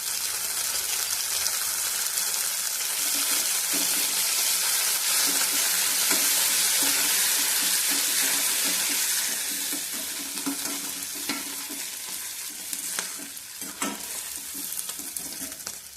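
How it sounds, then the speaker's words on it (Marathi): Onion frying in a pan with coriander and curry leaves, a steady close sizzle and hiss with stirring scrapes throughout, easing slightly in the second half, no talk. "कांद्याला परतून घेऊया आता कोथंबीर आणि कडे पत्ता टाकून घेऊया"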